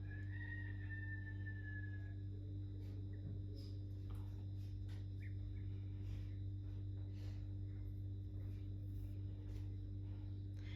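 A rooster crows faintly from a neighbouring yard near the start, distant and thin above a steady low background hum, with no other clear calls afterward.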